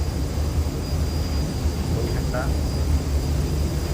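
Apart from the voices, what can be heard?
Boeing airplane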